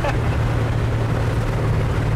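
Twin turbo Ford F350 truck engine running, a loud, steady low rumble close by that holds level throughout, with a faint voice briefly underneath.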